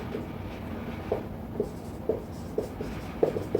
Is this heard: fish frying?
no